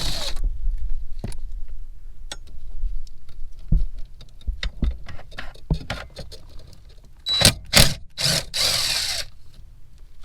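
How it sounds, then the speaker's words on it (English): Two 10 mm nuts being removed from a steering column bracket on an F-body car, a series of sharp irregular clicks and ratcheting taps close by, ending with a louder cluster of rapid clattering bursts. "take the 2 10 millimeter nuts off either side"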